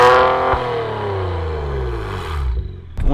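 A one-off Kia GT420 track car revs hard, its engine note sweeping loud and then falling steadily in pitch, with a sharp second blip of the throttle at the very end.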